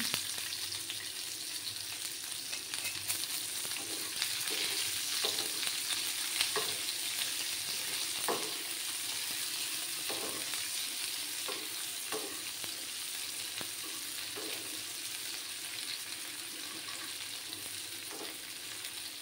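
Chopped onions sizzle steadily in hot oil in a pan, with a continuous crackling fry and occasional soft scrapes of stirring over nearly twenty seconds, no voices.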